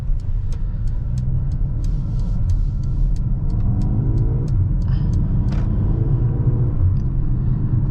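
A 2021 Mercedes-AMG GLA 35 SUV with an 8-speed automatic cruises through the city at night, giving a steady low cabin rumble and road noise throughout, with no talking.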